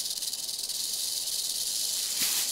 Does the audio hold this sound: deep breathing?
no